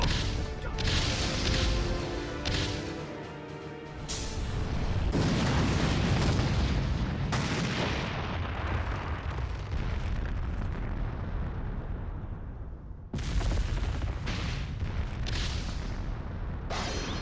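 An anime fight attack called Butterfly bomb lands as a heavy explosion: sharp bursts and booms give way to a long roaring rumble of debris, cut by a renewed blast near the end.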